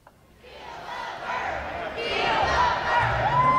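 Crowd gathered at a presidential campaign event as buses pull up at small diners, a swelling roar of cheering and chatter rising from quiet to loud.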